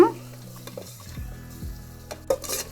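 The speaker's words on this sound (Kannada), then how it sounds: "ಈಗ ಇದೆಲ್ಲ ಚಲೋದಂಗ ಫ್ರೈ ಮಾಡ್ಕೊಳ್ಳೋಣ ನೋಡ್ರಿ ಟೊಮ್ಯಾಟೊ ಜರ ಮೆತ್ತಗಾಗು ತಕ್ಕ ಫ್ರೈ ಮಾಡ್ಕೊಳ್ಳೋಣ" Tomato and biryani masala fry in a pressure cooker for egg biryani, giving a steady sizzle broken by a few scraping stirs of a spoon against the pot. The sizzle swells near the end.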